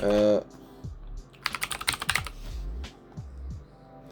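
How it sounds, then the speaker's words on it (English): A quick flurry of keystrokes on a computer keyboard clicks close by as a short command is typed, a tight burst of taps between quieter thuds and a brief tone. "we're going to type in /welcome and it will come up with the set greet channel"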